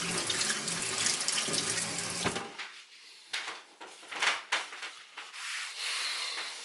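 Water runs into a sink, a loud continuous rushing gush for about two seconds, then cuts off to quieter gurgling, dripping and draining sounds with a few small knocks as the sink empties.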